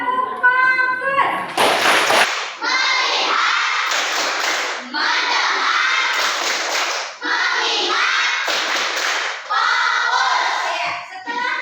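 Primary schoolchildren in a classroom doing a rhythmic focus clap, sharp bursts of group hand claps alternating with a class chanting together in unison, loud and close, in repeated phrases.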